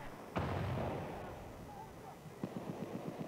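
A single sharp sniper rifle shot cracks out in a team deathmatch video game set in a cathedral, followed by a second fainter report and a short run of rapid pops, with commentators talking over it.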